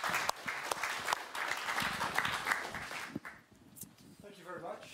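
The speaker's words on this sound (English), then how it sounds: "Big applause, please." Audience applause at a lecture on biodiversity, a dense crackle of many hands for about three seconds that then thins out, with voices talking over and after it.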